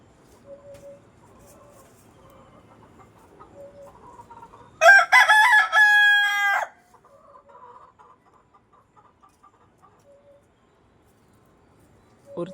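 A loud, close crow from a native rooster, one of three in a flock, rings out for nearly two seconds with rich, stacked harmonics, while soft clucks and low bird calls surround it.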